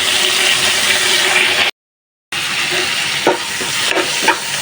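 Boal fish fry with spices in hot oil, giving a loud, steady sizzle that cuts out briefly and then resumes, with a few soft stirring scrapes near the end.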